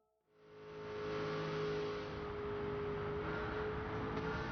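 A racing car engine in the video game Gran Turismo 7 revs steadily and holds a high, buzzing drone for several seconds at Goodwood Motor Circuit, loud and close, with no voices.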